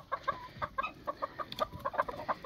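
Six roosters and hens kept together in a backyard coop and pen cluck in quick, uneven bursts, close by and moderately loud with no talking.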